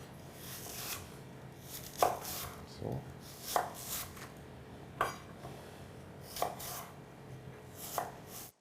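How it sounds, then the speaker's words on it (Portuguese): A knife chops asparagus into small cubes on a board, sharp rhythmic knocks coming every second or so, close but fairly quiet, with faint rustling and handling noise in between. "Agora eu corto as pontas aqui e o resto do aspargo. Hoje eu vou cortar em pequenos cubos."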